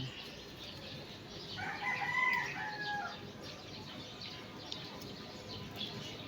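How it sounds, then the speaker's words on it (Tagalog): A chicken calls briefly, a short crowing or clucking cry rising out of a steady outdoor background hiss, then fading away. "Ayan ay manok ng kapitbahay."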